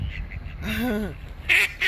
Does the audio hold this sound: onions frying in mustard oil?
no